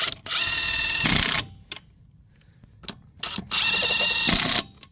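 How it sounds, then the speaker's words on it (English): Two long, loud bursts of a Ridgid 1/2 inch impact wrench hammering on the lug nuts of a one-ton Ford F350 truck, separated by short clicks and taps, close and with no talking. "I'll hit them with the impact"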